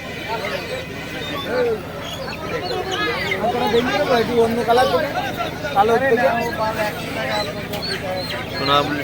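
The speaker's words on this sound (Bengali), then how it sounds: "দাদা এগুলো কি মুরগি গো? কি মুরগি এগুলো? সোনালী মুরগি।" Young Sonali chickens cheep in high, wavering peeps at a busy animal and bird market in Bongaon, heard under close conversation and crowd chatter.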